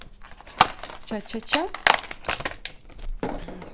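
Plastic takeout sushi packaging crinkles and crackles as it is pulled open, a few close, sharp rustling bursts mixed with a person talking throughout.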